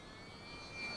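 Small fixed-wing RC model airplane flying, a steady continuous engine drone held at a distance and swelling slightly louder near the end, with no talking.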